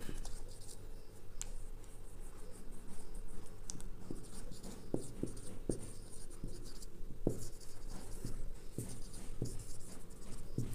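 A pen writing out a differential equation by hand, a close, soft continuous scratching with small taps and ticks as strokes start and stop, steady throughout with no talk.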